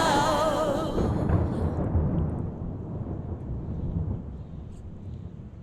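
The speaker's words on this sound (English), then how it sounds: "I can hear the thunder, the clouds are rolling in" Thunder from an approaching storm rolls in as a long, loud, deep rumble that slowly fades, with wind noise buffeting the microphone throughout.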